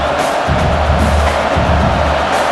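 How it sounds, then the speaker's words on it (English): Stadium crowd noise from a simulated LSU Tigers vs Oklahoma Sooners college football game in NCAA College Football 26, a steady loud roar of cheering fans that swells in waves and stays constant throughout. "It's early, but this crowd is fired up. Listen to this noise here."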